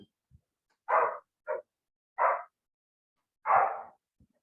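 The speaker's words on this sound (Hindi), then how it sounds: "मेरे बगल वाले घर में एक कुत्ता रहता है, तो वो भौंकते रहता है" A neighbour's dog barks in four short, loud bursts spaced about a second apart, clear against a quiet background with no talk.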